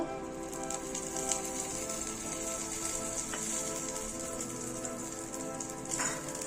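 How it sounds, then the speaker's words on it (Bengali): Mustard oil heats in a wok with a quiet, fine crackle like light rain on a surface, steady throughout with a couple of slightly sharper pops. "এবার কড়াইয়ে সর্ষে তেল দেব"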